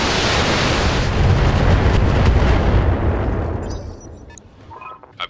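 Heavy mech weapons firing in the BattleTech game, a loud sustained roar of explosive blasts and gunfire that rumbles for several seconds and then fades away into quieter distant pops.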